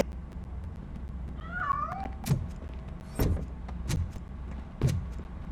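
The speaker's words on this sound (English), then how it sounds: "That cat must be hiding inside." A cat meows twice in a short rising-and-falling call inside the video game RoboCop: Rogue City, moderately near, followed by several sharp clanks and thuds in a quiet game scene.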